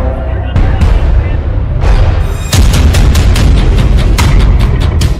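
Bombs and missiles exploding in airstrikes on Yemen: a rapid series of loud, close blasts and booming cracks, several in quick succession, some overlapping.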